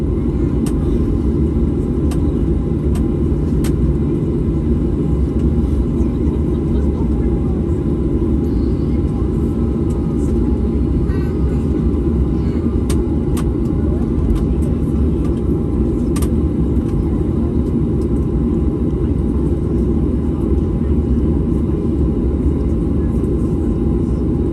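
A China Airlines Airbus A350 powers up for its takeoff roll down the runway, a loud, steady, continuous jet roar and rumble that stays even throughout.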